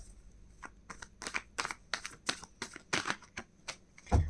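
Tarot cards shuffled by hand, a quick irregular run of soft papery riffles and flicks, close and fairly quiet, ending in a heavier thump.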